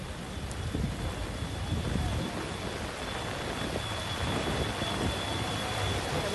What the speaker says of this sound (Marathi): नवी मुंबईला देखील मुसळधार पावसानं झोडपून काढलेलं आहे